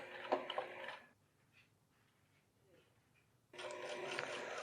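A sewing machine zigzag-stitches the ends of a trouser pocket in two brief close bursts, separated by a quiet gap of faint handling noise.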